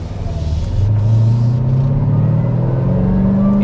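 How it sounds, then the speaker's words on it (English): A powerful supercharged V8 engine in a 2021 Dodge Durango SRT Hellcat revs up and holds a deep rumbling growl, loud and close, with pitch rising steadily. "V8 just sounds so damn good"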